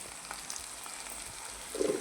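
Chicken coated in ginger paste fries in a pan, giving a steady, close, moderately quiet sizzle that swells a little louder near the end, with no talking.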